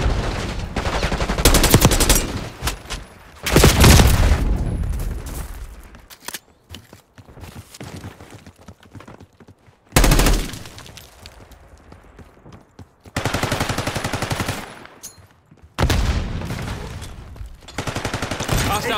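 Gunfire in Call of Duty Black Ops 6 beta online multiplayer: loud, rapid bursts of automatic fire in several separate volleys, with quieter gaps and a sharp new burst at about the midpoint.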